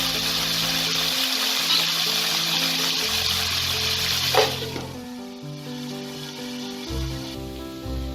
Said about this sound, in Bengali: আলুটাকে ভালো করে আমি ফ্রাই করে নেব